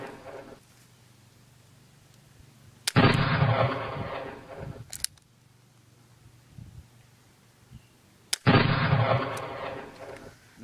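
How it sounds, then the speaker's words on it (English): Revolver fired twice, several seconds apart, each a sharp loud crack with a rumbling echo trailing off, quiet outdoor background between shots. "there's a variety of ways you can shoot the revolver"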